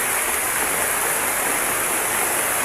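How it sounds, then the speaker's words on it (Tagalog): Heavy rain pours down beside a stream where gold was once panned, a dense, steady hiss with no break, loud and close, with no voices. "Ayan, malakas pa yung ulan."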